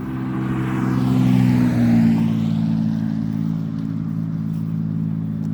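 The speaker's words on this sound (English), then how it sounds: "Why someone takes a little puddle jumper of a car and puts an exhaust that loud on it?" A small car fitted with a loud aftermarket exhaust drones past at close range, its low engine tone swelling and fading steadily with no talk over it.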